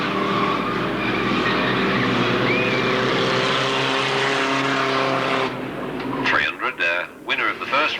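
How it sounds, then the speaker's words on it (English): Standard rod race cars roar past loudly on an oval track at an Alwalton race meeting, a dense sustained engine drone that drops away after several seconds, with a commentator talking over the noise throughout. "the lead car's just gone past the starter's rostrum"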